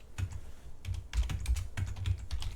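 Quiet, close clicks and taps of a computer keyboard being typed on, in short irregular bursts with brief pauses between keystrokes.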